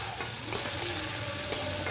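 Tomato fries in oil in a pan for a potato dum curry, a dense close sizzle broken by two quick stirring scrapes, with no talking.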